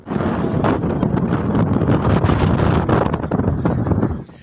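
Strong gusting wind buffets the microphone over steady rushing waves at sea off Balabac, Palawan, loud and continuous, with no voices heard.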